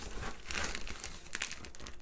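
Plastic bag crinkling as a parcel is unpacked: dense, crackly rustling bursts close by, irregular and fairly quiet, with no talking.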